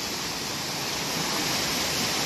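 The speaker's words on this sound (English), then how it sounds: "There's the falls." Rushing waterfall and creek at Little Mashel Falls, a steady broadband roar of falling water heard up close from mid-creek, continuous and loud with no voices.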